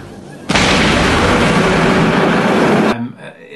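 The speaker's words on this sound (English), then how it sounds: "the bomb that General von Stauffenberg left there" A bomb explodes in a film scene, a sudden loud blast that roars for a couple of seconds and then cuts off abruptly.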